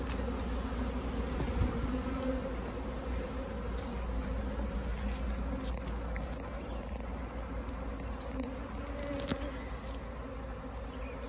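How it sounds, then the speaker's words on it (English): A dense, steady drone of many honeybees buzzing close by, continuous and fairly loud, with no voices. "So all those bees over there were on the ground just like these a minute ago."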